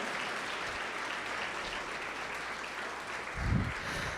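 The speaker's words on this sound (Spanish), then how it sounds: "Dale un aplauso fuerte," A church congregation clapping together, a dense, sustained wash of applause throughout, steady and moderately loud, with a brief low thump near the end.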